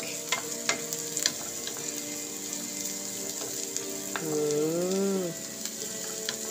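Garlic and onion frying in a pan before beef steak goes in, a steady soft sizzle with a few sharp stirring clicks and a brief tonal swell near the end, no talking.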